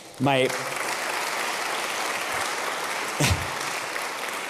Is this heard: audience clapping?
yes